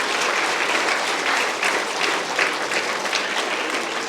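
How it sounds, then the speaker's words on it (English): Loud, continuous audience applause honors teachers at a school event, a thick, steady roar of many hands clapping together with no pauses, close and full. "So I think you should give a round of applause to your teachers"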